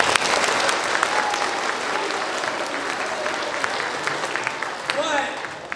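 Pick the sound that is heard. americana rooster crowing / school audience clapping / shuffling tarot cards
school audience clapping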